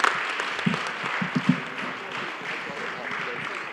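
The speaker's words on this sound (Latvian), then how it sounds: "Tā kā aplausi visām jums zālē un visiem jums zālē." A hall full of people applauding, a dense steady wash of clapping with a few sharper claps standing out near the start.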